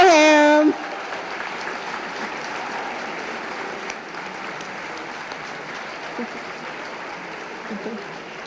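Applause from an audience at an annual scholarship luncheon for a student recipient, a steady sustained clapping that carries on for several seconds after a brief voice at the start.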